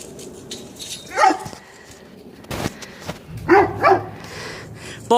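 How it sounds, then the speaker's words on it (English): A black dog barks a few times outdoors, two separate loud yelping bursts with quieter background noise in between. "there's a dog."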